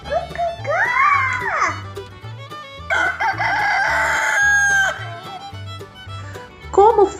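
A young child imitates a rooster crowing with long, rising and falling vocal calls, a sustained strained crow in the middle and a short squawk at the end, loud and close.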